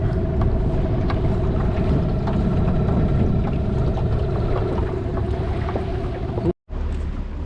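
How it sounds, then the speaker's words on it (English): Small sailboat motoring slowly in toward a beach off Magnetic Island, Australia, with a steady outboard engine drone and a clear tonal hum, water and wind noise around it, and a brief dropout near the end. "I'm just going to motor in slowly into the beach while Sam feeds that out."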